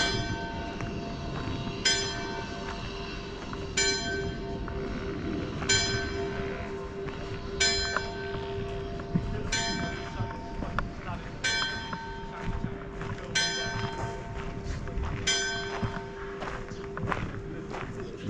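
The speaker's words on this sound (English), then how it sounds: "That's the 11 o'clock bell." A church bell in Puerto Portals, Mallorca strikes eleven o'clock, with about ten evenly spaced chimes roughly two seconds apart, heard at a moderate distance over footsteps and outdoor ambience.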